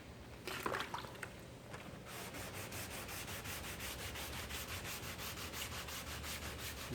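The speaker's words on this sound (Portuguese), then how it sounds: "Então você vai lixando, vai subindo e vai descendo." Sandpaper rubbing up and down over car primer in quick, even strokes after a brief rustle at the start, close by and fairly quiet.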